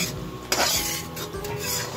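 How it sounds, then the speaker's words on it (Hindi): Tomato gravy is stirred into potatoes in a cooking pan for dum aloo, with a spoon scraping and knocking against the pan in short, close strokes over a soft background hiss. "इसको अच्छे से मिला लेना है"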